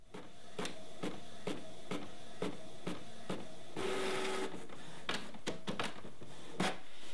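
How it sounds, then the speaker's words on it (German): An inkjet printer runs a DVD cover print job sent from a Mac, with a rhythmic series of clicks and clacks, a brief whirring feed, then more clicks, steady and close in a quiet room. "das Ganze wird jetzt gedruckt"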